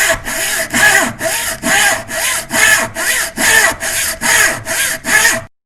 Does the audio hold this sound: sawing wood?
yes